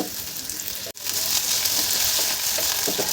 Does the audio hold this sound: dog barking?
no